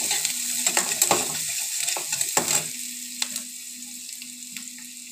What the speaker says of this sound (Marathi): कांदा आपला थोडासा छान परतून झाला ना